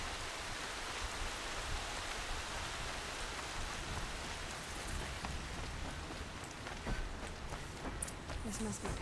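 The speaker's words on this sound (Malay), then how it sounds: "Hujan." Steady in-game rainfall from Horizon Zero Dawn hisses evenly for the whole stretch, a dense broadband wash with faint scattered drips, while a voice speaks over it at times.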